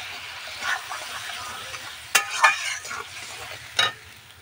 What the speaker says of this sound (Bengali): এই গরম জলটা দিয়ে দেবো